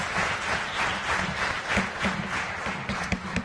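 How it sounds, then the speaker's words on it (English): A room of listeners at a national school debate championship applauds the debaters from two secondary schools, a steady, even wash of clapping with a few sharper claps near the end. "Please help me give a round of applause to our fellow debaters, the Lycée de Kigali and Kagarama Secondary School."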